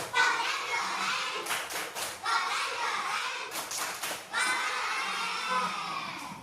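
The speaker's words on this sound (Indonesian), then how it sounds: "Kita tepuk apresiasi dulu." A group of schoolchildren in a classroom doing a rhythmic appreciation clap, with bursts of hand claps in a patterned rhythm mixed with children's voices and chatter.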